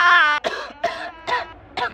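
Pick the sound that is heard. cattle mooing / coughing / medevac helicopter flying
coughing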